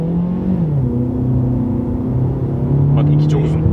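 A Suzuki Vitara 1.6 petrol engine hums and revs from inside the cabin, a loud steady drone with shifting pitch, while people talk over it.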